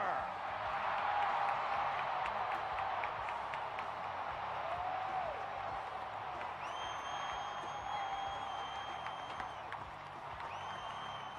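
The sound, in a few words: stadium crowd applause for monster truck Gravedigger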